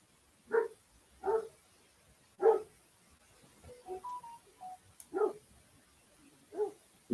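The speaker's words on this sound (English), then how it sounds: "The dogs are barking, Brett." Dogs bark outside, a handful of short, faint barks spaced a second or two apart in a quiet setting, with a few soft whimpering tones between them.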